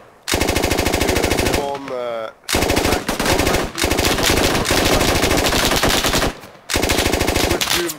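A SAW light machine gun rattles off long, rapid automatic bursts in the tactical shooter game Squad, loud and close, broken by short pauses between strings of fire.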